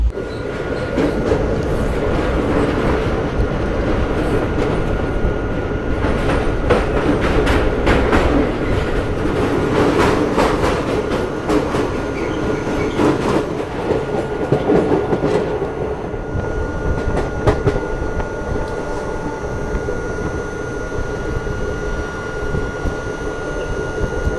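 The Trivandrum-Shalimar Express passenger train rolls along in Kerala at sunset, a loud continuous rumble with rhythmic clickety-clack of wheels over rail joints and occasional rattling, heard from on board throughout.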